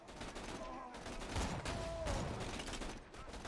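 Gunfire from the video game Borderlands 2 comes in quick clustered shots and short volleys, fairly faint, over a continuous low game soundscape.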